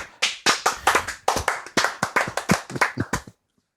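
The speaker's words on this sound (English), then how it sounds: "Slow clap. Yes! Slow clap." A single pair of hands claps in a steady, evenly spaced run of about seventeen crisp, close claps over roughly three seconds, then stops abruptly into silence.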